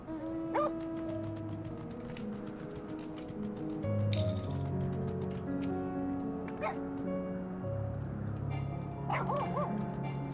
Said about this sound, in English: Anyway, I got a dog.